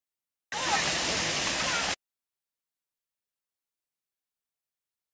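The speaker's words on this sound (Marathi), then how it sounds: "बघा अशा प्रकारे ते धबधबा वगैरे दाखवले" An artificial waterfall at an aquarium in Sindhudurg gives a brief, fairly close rush of splashing water lasting just over a second, surrounded by silence.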